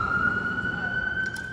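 A fire engine's loud, steady siren wails close by, holding a high tone with a lower rumble of traffic beneath it.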